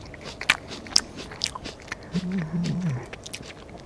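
Close ASMR chewing recorded on a GoPro during a livestream: a few sharp crunchy bites and clicks, then a short low murmur of voice partway through.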